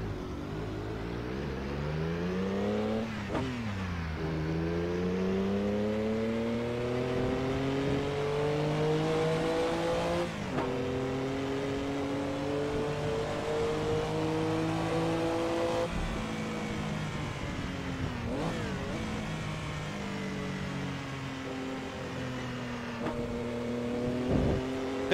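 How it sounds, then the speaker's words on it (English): A Porsche 962 race car in Assetto Corsa pulls away in first gear on long gearing, its engine rising steadily in pitch through repeated revving pulls and shifts, loud and close with no talking. "clutch in, first gear, and off we go. Careful not to stall it with this long gearing."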